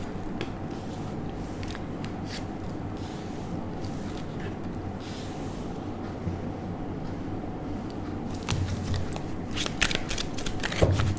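A deck of tarot cards is shuffled during a reading, a steady soft riffling and rustling throughout with sharper card snaps and taps toward the end, no talking.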